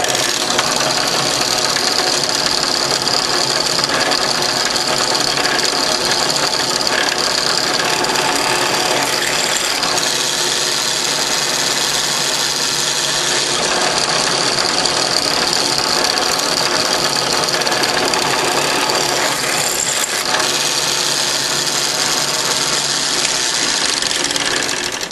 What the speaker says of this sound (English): So now I just take my drill press and drill out the tooling holes.